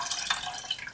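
Salt brine pours out over raw chicken in a container, a brief close splashing and dribbling of liquid lasting under a second, quiet and alone.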